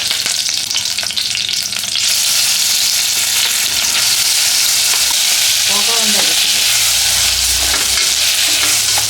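Ground masala paste frying and being stirred in a pan for mushroom biryani, a loud steady sizzle throughout with a few scraping spoon strokes near the middle, no talking.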